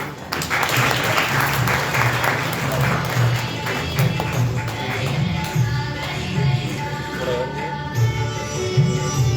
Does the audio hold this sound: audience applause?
yes